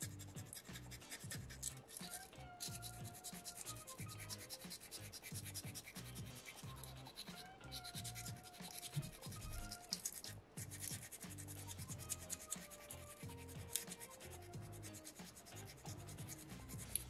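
Sandpaper rubs steadily against a soapstone fish carving, a close, quiet, continuous scratching with short back-and-forth strokes and brief pauses.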